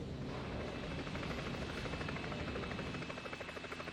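A news helicopter flies with a steady, rapid rotor chop and engine whine heard from inside the cabin, loud and continuous throughout.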